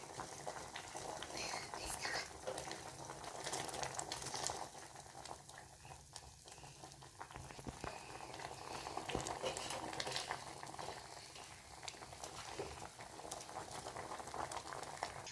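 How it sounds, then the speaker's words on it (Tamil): Steady bubbling and simmering of sambar boiling in a pot, a continuous busy burble that runs throughout without pause. "கொதிக்கிட்டு சாம்பார் நல்லா கொதிக்கிட்டு"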